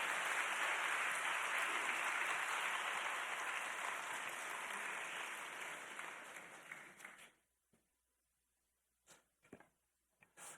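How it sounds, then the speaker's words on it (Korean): Church congregation applauding to welcome a deacon giving testimony at a Wednesday service, a dense sustained round of clapping that fades out after about seven seconds, followed by near silence with a few faint isolated sounds. "우리 박수로 환영하겠습니다."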